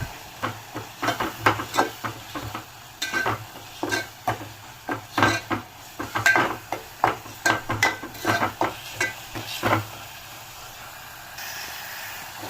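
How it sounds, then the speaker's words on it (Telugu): Ginger garlic paste, chili powder and salt being stirred in a pan for egg pulusu, a steady run of rhythmic spoon scrapes and clinks against the metal over a light sizzle, fading to quiet at the end. "ఇందులో కొంచెం అల్లం వెల్లుల్లి పేస్ట్ అండ్ కారం, సరిపడనంత సాల్ట్ వేసుకొని ఒకసారి మిక్స్ చేసుకుందాము"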